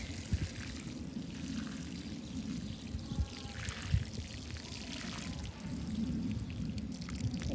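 Water pouring from a can onto freshly planted strawberry plants in a garden bed, a soft continuous splashing trickle with occasional louder drops, steady and close.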